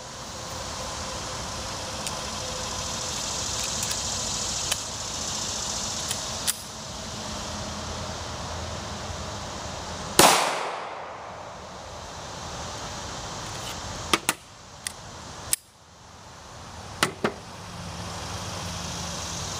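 A single sharp, loud shot from a Kimber Ultra Carry 2 pistol firing 230-grain .45 ACP at a water heater cracks out midway through a steady outdoor wind noise, followed by a few faint clicks.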